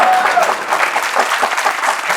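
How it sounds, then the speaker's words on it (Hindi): Studio audience breaks into steady applause on a comedy talk show set, a dense, sustained clatter of many hands filling the room at full volume with a faint murmur beneath. "तालियां पीछे से भी आवाजें आ रही है"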